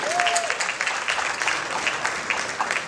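Audience at an entrepreneurship and career panel event breaks into sustained applause, dense even clapping from a sizable crowd holding steady for a few seconds, with a faint voice briefly under it at the start.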